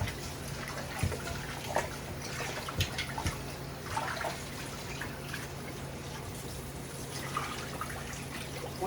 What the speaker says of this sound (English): Wash them thoroughly.